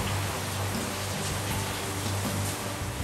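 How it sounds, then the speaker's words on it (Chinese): Rain falling outside during home cooking makes a dense, steady patter and hiss with no clear breaks, filling the short stretch without any speech. "外面在下雨。"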